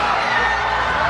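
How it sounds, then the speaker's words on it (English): A boxing arena crowd roars at a fight involving Jhack Tepora, a loud continuous wash of cheering throughout, with commentator speech mixed in beneath it. "This crowd's getting loud."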